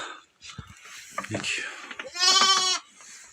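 A newborn female black lamb with a white-topped head gives one clear, drawn-out bleat close by, following a person talking nearby amid faint farmyard shuffling.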